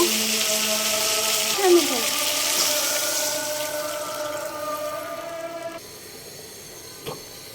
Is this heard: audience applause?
no